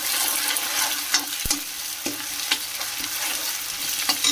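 Chopped onion sizzles in a pan with cumin seeds, a steady close frying hiss broken by sharp scrapes and clicks as a spoon stirs, with no talking.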